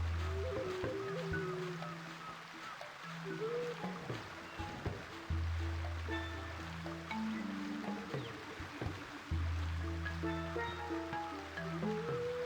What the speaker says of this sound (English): Yeah, we found the waterfall.